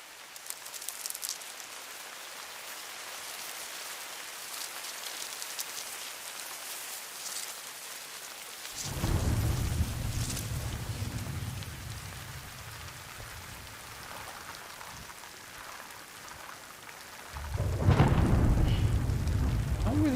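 Timefall rain falls steadily in the video game Death Stranding, a soft continuous patter joined by two deep rolls of thunder, the second louder and closer, with no talk over it.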